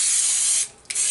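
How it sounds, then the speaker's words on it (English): Coconut cooking spray hisses from an aerosol can into a bundt pan, a loud close continuous spray that drops out for a moment and then resumes. "grease this thing with the cooking spray."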